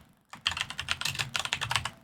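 Rapid typing on a computer keyboard, close and clear, starting after a brief silence with a dense, uneven run of clicking keystrokes and no speech over it.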